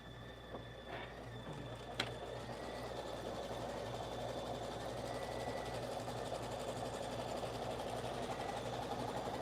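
An embroidery machine stitches a fabric placement outline, a steady close mechanical whir with rapid rhythmic needle clatter running continuously, one sharp click early on.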